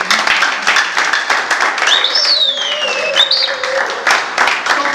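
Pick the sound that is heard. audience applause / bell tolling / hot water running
audience applause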